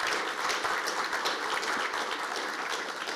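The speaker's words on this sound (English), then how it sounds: "let's give a big round of applause for the Olympic Club." An audience at the Peter J. Cutino Awards applauds the Olympic Club, a steady wash of many hands clapping that holds evenly for about three seconds.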